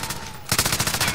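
Rapid automatic gunfire in the Call of Duty: Modern Warfare video game, a loud close burst of evenly spaced shots that starts abruptly and keeps going to the end.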